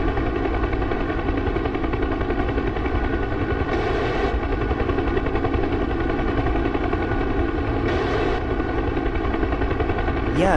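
A helicopter in the DCS combat flight simulator keeps up a continuous rotor and engine drone, and two short bursts of machine gun fire rattle out over it partway through. No one speaks.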